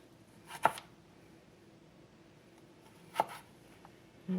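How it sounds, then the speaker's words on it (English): A knife cuts a carrot into thin eighth-inch planks for julienne on a cutting board, giving two sharp, isolated chops about two and a half seconds apart in a quiet room. "I'm going to make planks. Okay, I'm going to do them 1/8 of an inch thick for my Julienne."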